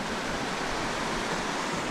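A waterfall at the base of a creek in the San Bernardino Mountains pours with a constant, dense rushing hiss, loud and close, steady from start to finish with no voices.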